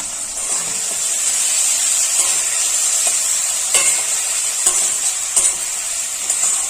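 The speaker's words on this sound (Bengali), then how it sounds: "হালকা হালকা টমেটো ক্যাপসিকাম গুলো ভাজা হয়ে আসলে আমি তারপর ওর মধ্যে মশলাটা দিয়ে দেবো।" Chopped tomatoes and capsicum frying in a pan, a steady bright sizzle with a few stirring scrapes and clinks breaking through now and then.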